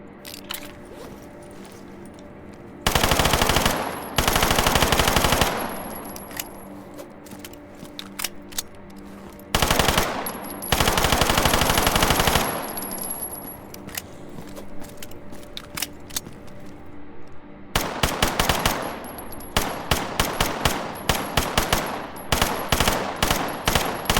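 Automatic gunfire in the video game Stalker Gamma comes in several loud bursts, some long and sustained, others short and choppy, separated by quieter stretches of ambient game sound.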